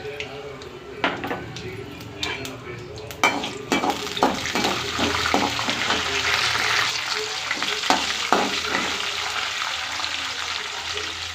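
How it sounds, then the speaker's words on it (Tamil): Mustard seeds and chana dal fry in hot oil for a drumstick flower stir fry, with popping crackles and a rising sizzle, ladle scrapes and clinks of a metal pan. "எண்ணெய் ஊற்றியாச்சு கடுகு போட்டுக்கலாம் கடலப்பருப்பு போட்டுக்கலாம்"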